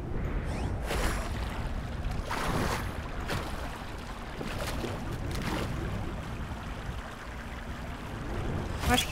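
Flowing water in the video game Max: The Curse of Brotherhood, a steady rushing wash with a few brief splashy surges, heard alone at moderate loudness.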